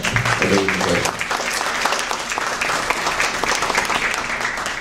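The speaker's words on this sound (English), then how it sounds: "let's give a big round of applause for that." Audience applause at the Elizabeth Forum 2019, dense steady clapping from a crowd filling the room at an even level throughout, with a faint voice or cheer briefly rising near the start.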